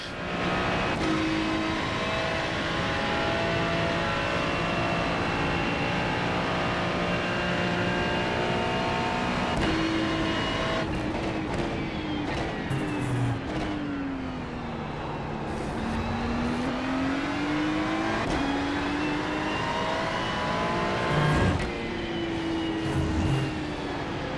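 A race car engine droning steadily at speed, pitch rising and falling through gear changes and corners, loud and continuous with no talk.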